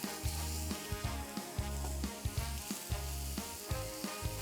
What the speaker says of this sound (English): ooh, listen to that sizzle. Add our burger patties on there.